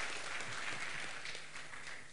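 A church congregation claps hands together at a healing service, a dense, steady wash of applause that carries throughout without a break.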